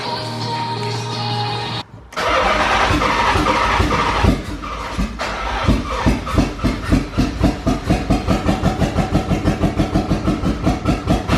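A Nissan 300ZX engine cranks after a battery swap, then catches and runs roughly, loud and close, settling into a rapid uneven pulsing idle.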